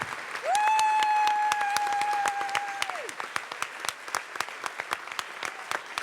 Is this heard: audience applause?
yes